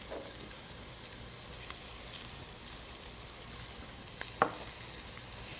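Mushrooms with Italian dried herbs cook in a pan, giving a soft, faint, continuous sizzle with a few light clicks and one brief clink near the end.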